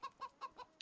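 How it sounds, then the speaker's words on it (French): Chickens in the farming video game Farming Simulator 25 cluck in four short, evenly spaced calls, then give a sharper squawk at the end. The calls are close and clear, with no talk over them. "oh les poules"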